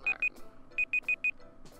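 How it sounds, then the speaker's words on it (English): A timer alarm goes off in short, sharp electronic beeps: a pair, a pause, then four more in quick succession, fairly close and clear. "That is the timer."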